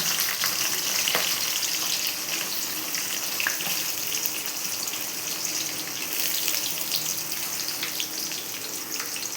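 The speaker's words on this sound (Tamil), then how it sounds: "வெங்காயம் நல்லா வதங்கி வரணும்." Onions and green chili sautéing in a pan for bitter gourd kuzhambu, a continuous hissing sizzle with occasional faint stirring clicks, steady and close.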